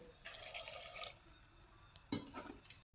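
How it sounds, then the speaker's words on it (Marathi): Water poured into a pressure cooker holding washed, chopped vegetables gives soft splashing and dripping in two short bursts, faint and close, with no one talking. "थोडंसं पाणी टाकायचं"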